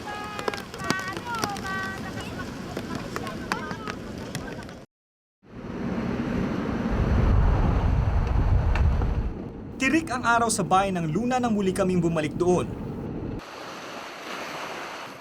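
Ocean waves breaking on the beach at Luna, a rushing surf roar with gusts of wind buffeting the microphone, heard partly under a narrator's voice and mixed with other voices and music.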